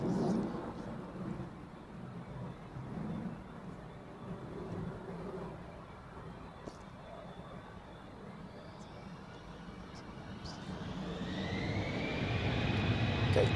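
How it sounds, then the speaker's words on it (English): A Lufthansa airliner takes off for Frankfurt at Zurich Airport. A distant, low rumble hangs through the clip, and in the last few seconds a rising jet whine swells up and grows louder. "take off for Lufthansa to Frankfurt"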